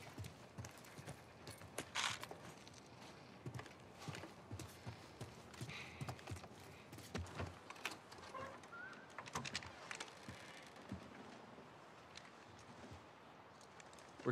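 Horses walk at a steady pace in the video game The Last of Us Part 1, their faint hooves clip-clopping with occasional bird calls in the background.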